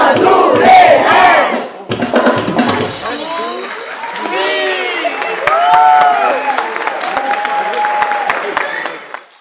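An audience claps and cheers loudly for child actors after a children's play, a dense wash of applause and shouting from a crowd indoors, while an amplified voice speaks over it.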